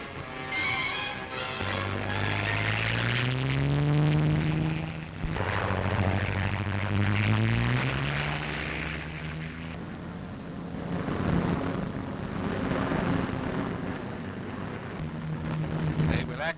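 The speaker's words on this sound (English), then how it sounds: "fighters take off from an aerodrome somewhere in the western desert." Fighter planes taking off from a desert aerodrome in the western desert, propeller engines droning and rising in pitch as they pass, loud and sustained with fluctuating tones over a noisy old newsreel soundtrack.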